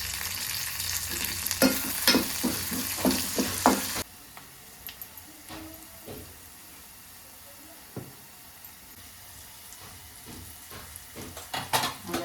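Curry leaves, chilies and potato sautéing in a pan for misal: a loud crackling sizzle with rhythmic spatula scrapes, then a quieter stretch of stirring and occasional clinks, with faint voices.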